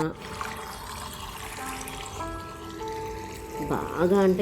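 Water trickles and pours steadily into urad dal flour dough in a bowl while someone talks over it, ending with a brief splashy sound.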